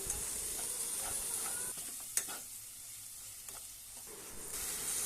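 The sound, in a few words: spice paste frying for chicken gizzard curry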